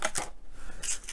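A plastic bag of small model screws rustles and crinkles in a few quick close handling bursts as it is opened, with no talk.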